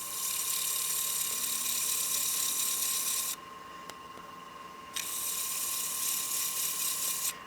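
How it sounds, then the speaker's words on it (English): A wood lathe turning a utility box runs at reduced speed for sanding, giving a steady high mechanical whine with a faint hum beneath, and a brief quieter stretch partway through before the whine returns. "I'm going to drop the speed back down for sanding"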